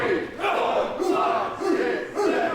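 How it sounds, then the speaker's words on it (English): A wrestling crowd at a live match in Guildford counts along in unison, giving loud, rhythmic group shouts about twice a second that fill the hall. "Crowd counting along."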